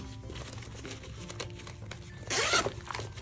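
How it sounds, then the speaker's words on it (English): A zipper is pulled in one quick, raspy stroke near the end, close by, over a faint steady background hum. "Zipper closure"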